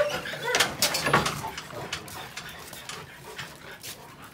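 An American Bully dog whimpers and pants in short, close bursts, with scuffling movement and a person talking nearby.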